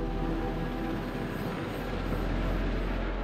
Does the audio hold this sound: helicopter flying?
yes